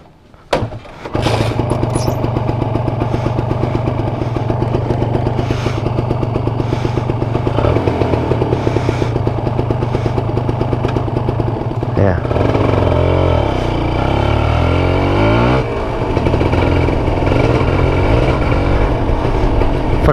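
A Kawasaki Ninja RR two-stroke motorcycle, just fitted with a new chain and gear set, starts up and is ridden. The engine is loud and close with a buzzing drone that rises and falls through gear changes, and a rider talks intermittently.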